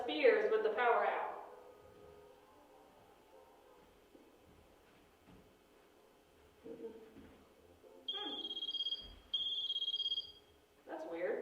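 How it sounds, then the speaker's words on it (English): A cell phone rings in two short electronic bursts after speech in a quiet room during a power outage, fairly clear and close. "I'm pretty sure that's your cell phone"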